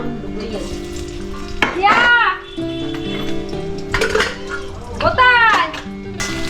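Garlic and ginger crackling and sizzling in hot oil, with spoon scrapes in the pan while people talk over the cooking.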